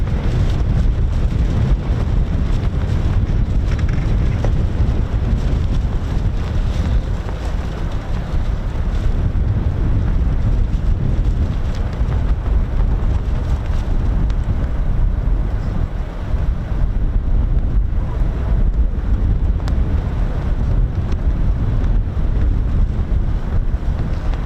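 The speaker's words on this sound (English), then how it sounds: "it is absolutely windy here" Strong wind buffets the microphone at RAF Lakenheath in a constant low roar, gusting loudly throughout with a rushing, blustery texture and no voices.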